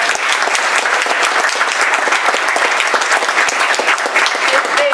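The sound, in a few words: audience applause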